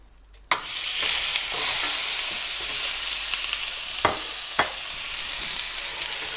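Ground turkey drops into a hot frying pan and bursts into a loud, close sizzle that holds steady, with a couple of sharp utensil clinks partway through.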